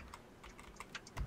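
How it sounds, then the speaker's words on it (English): Quiet tapping on a computer keyboard, a handful of irregular light keystrokes close to the microphone, ending with one heavier thump. "no sound here other than me typing."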